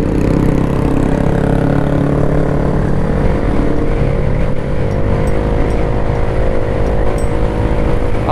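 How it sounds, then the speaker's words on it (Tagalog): Loud, steady engine and exhaust drone from a vehicle cruising at about 60 km/h through a subdivision, heard from inside as a continuous low rumble with harmonic hum and no talk. "Ingay ng tambutso na rin."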